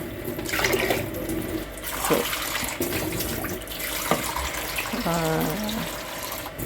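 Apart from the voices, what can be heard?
tap water running into a bowl for pasta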